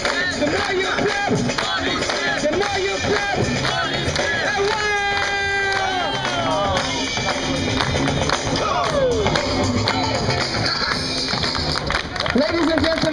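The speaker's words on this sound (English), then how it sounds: "Clap your hands. Clap your hands." An audience claps along at a street breakdance show in Amsterdam, with steady rhythmic hand claps mixed into crowd noise and music while a performer shouts encouragement over them.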